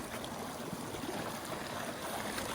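Mountain stream in the Indian Peaks Wilderness, a faint, steady rush and trickle of flowing water, close and continuous with no voices.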